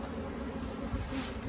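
Honey bees buzz around beehive frames of mature brood during a hive split, a brief, steady swarm drone close by.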